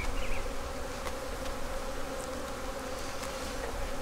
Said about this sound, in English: we're done, and I'm covered in bees